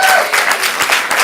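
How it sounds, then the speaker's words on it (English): Brief burst of audience applause at a stand-up comedy showcase, close and loud clapping from a crowd lasting just over a second. "Give Felipe a round of applause for that"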